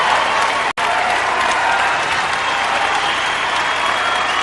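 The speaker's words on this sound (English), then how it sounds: "And the crowd very much behind Monica Seles." A tennis crowd applauding at a women's professional match, loud dense clapping from a large audience that fills the whole stretch, with one very brief dropout near the start.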